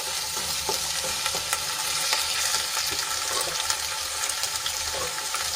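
Onions and tomatoes fry in a pan for a home-cooked Gujarati vegetable dish, giving a steady, close sizzle throughout with occasional soft scrapes of stirring and no talking.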